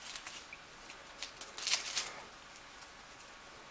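A small deck of playing cards for a tabletop card game is shuffled by hand, a few quick papery riffles and flicks clustered in the middle, quiet and close, with no speech.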